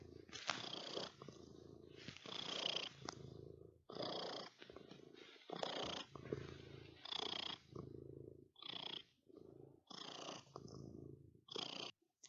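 A cat purrs close up in rhythmic, rumbling cycles that swell and fade with each breath, steady and alone with no talking.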